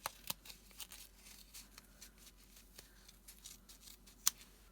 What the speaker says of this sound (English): You can snip this open.